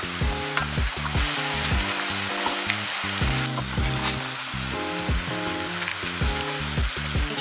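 Onions frying for Nigerian asun rice, a loud continuous sizzle close up with repeated scraping stirs of a spoon in the pan and no talking.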